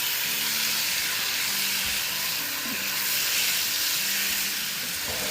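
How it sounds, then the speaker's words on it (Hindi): Chicken pieces sautéing over a high flame for a pasta dish, a loud continuous sizzle and hiss of frying with faint scraping of stirring underneath, steady throughout without talk. "फ्लेम हाई कर देंगे और चिकन को अच्छे से सौटे कर लेंगे।"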